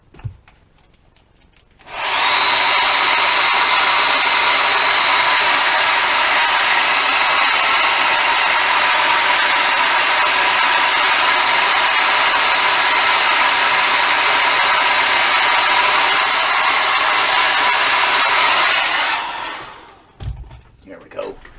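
A hair dryer blasts steadily and loudly for about seventeen seconds while drying paint on an AMT Klingon and Romulan D7 battle cruiser model kit. It switches on abruptly, holds a constant roar up close, then winds down and cuts off.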